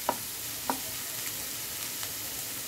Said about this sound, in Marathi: थोडा परतून घ्यायचा.